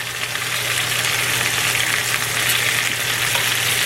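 Gochujang chicken frying in a pan gives a dense, even sizzle with a low steady hum underneath, close and loud, continuous throughout with no talking.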